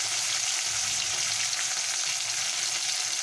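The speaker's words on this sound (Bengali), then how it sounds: "দিয়ে এবারে এটাকে ভালো করে ভেজে নেব" Bhola fish fries in a pan, giving a steady, bright, hissing sizzle that stays even and continuous, close up, with no voices.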